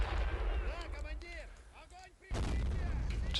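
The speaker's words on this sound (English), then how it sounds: "Actually, I might just throw a quick grenade there." In the strategy game Men of War, a grenade blast lands as a sudden loud boom after a stretch of distant gunfire and battle noise, with someone speaking over the mix.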